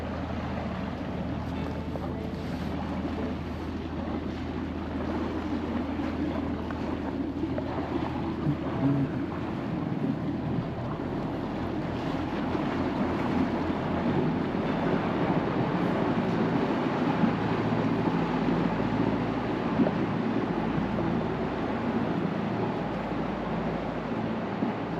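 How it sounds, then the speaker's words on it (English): A lake passenger boat pulls away from a jetty, its low engine rumble steady and moderately distant, blended with wind noise on the microphone throughout. "Boat's just leaving on its way to Keswick."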